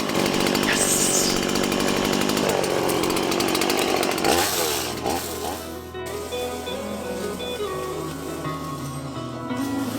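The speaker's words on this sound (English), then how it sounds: "That's a real chainsaw." A gasoline chainsaw runs loudly and close, its high buzzing whine holding steady and then dropping to a lower, rougher idle after a few seconds, with no talk over it.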